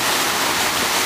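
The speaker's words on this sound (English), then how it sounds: "Obviously we got some good water going through right now" Water rushes through a recently rebuilt river dam in a loud, steady, broadband roar with no break, heard close and alone.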